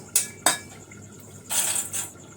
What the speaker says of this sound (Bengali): আমি একটুখানি জিরে আর ধনে একটু শুকনো খোলায় নেড়ে নিচ্ছি।